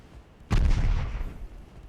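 A single heavy warship gun blast from a naval battle in Ultimate Admiral Dreadnoughts, a sharp deep boom whose rumble trails off over about a second, heard alone.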